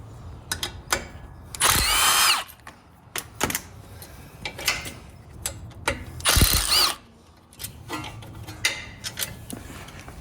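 A power tool with a 13mm socket removes brackets on a Jeep Wrangler JL, giving two loud buzzing bursts between sharp ratcheting clicks and metallic knocks, close by, with no talking.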